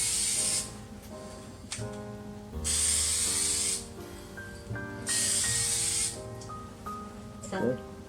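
Aerosol spray paint going onto windshield wiper arms in three long hissing bursts, close and loud, with quiet talking and faint background music between the sprays.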